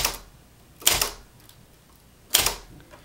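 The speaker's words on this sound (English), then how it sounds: "typing on a typewriter requires a pretty light press like this" Typewriter keys pressed with a light touch: two crisp, separate mechanical clacks about a second and a half apart, close by, with near silence between them.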